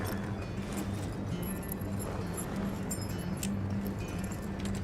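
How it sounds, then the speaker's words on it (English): Keys jangling in the video game Wolfenstein 2, a light metallic clinking that rattles on and off over a steady low game ambience hum, with no talking. "Keys."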